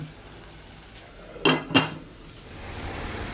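A metal lid set down on a cooking pot while halva is being made on the stove, two sharp clinking knocks close together, close and clear against a quiet kitchen background.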